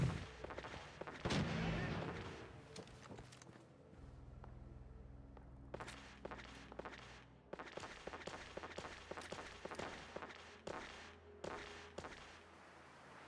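Minigun fire in Fallout 4, powered by a fusion core, opens with a loud burst followed by a series of rapid, quieter clicks and thumps that come in clusters, with no talk over it.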